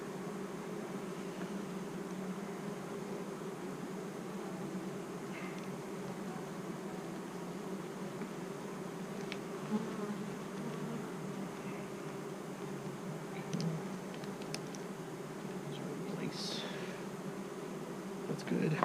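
Honeybees buzz around an open hive just after an inspection, with robbing under way: a dense, steady, close swarm drone that runs unbroken throughout.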